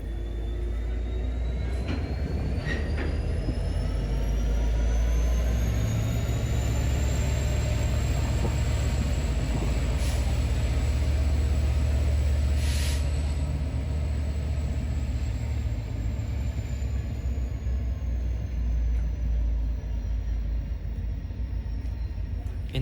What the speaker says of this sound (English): This train right now is departing for its 3-hour trip to Charlotte.